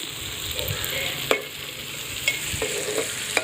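Onions frying in a pan on a hot day at home, steady sizzle with a few sharp clinks of a spoon stirring against the metal, close and alone.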